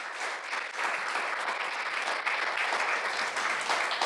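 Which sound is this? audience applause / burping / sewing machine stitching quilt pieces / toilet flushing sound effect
audience applause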